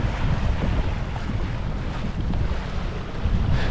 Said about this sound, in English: The waves on this side are slightly a bit stronger